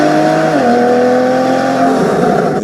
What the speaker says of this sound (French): Regardez ce bruit. On est bien dans une Porsche.